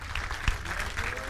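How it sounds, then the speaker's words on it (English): A seminar audience claps for a guest named Craig as he is brought up at a talk on meeting women in bars and clubs, a brief, fairly soft burst of applause with one louder thump partway through. "So give a big round of applause to my friend Craig."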